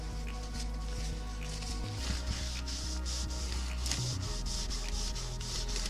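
Vaseline being rubbed off a distressed painted wooden farmhouse kitchen sign, close repeated scrubbing strokes in an uneven rhythm over a steady low hum, with no talk.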